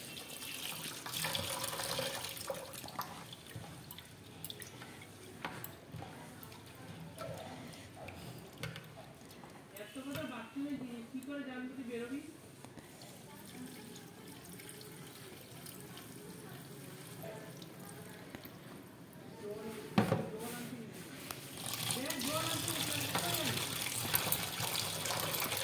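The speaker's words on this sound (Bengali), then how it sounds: "ভালো করে ডালটা ধুয়ে নিচ্ছি বন্ধুরা" Chana dal lentils being rinsed under a running kitchen tap, with a steady gush of water filling a bowl and swirling grains in a sink, continuing throughout at moderate closeness.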